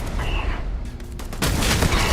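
An explosion in the space game Starfield erupts as a loud, sustained burst of noisy blast and rumble with crackling, layered over continuous game sounds, growing louder toward the end.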